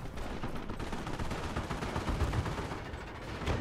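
Dense, continuous machine gun fire and rattling gunshots from the WWII strategy game Company of Heroes: Tales of Valor, fighting around towers in Normandy near Sottevast. It is loud and sustained throughout, with no talking.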